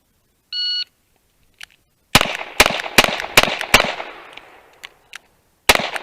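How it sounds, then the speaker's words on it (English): Old West cowboy pistols firing a rapid string of five loud, sharp shots in quick succession, a short pause, then one more shot, preceded by an electronic timer beep. "okay, so first up, the cowboy pistols."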